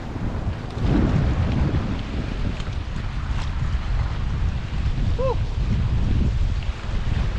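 Strong wind buffeting the microphone by the sea at Rawis, a continuous low roar with gusts, faint surf beneath and a brief distant chirp.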